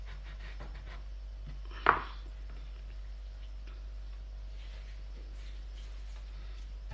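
A knife cuts through a baked honey cake sheet with one sharp close tap against the board, followed by quiet room sound with faint light scraping.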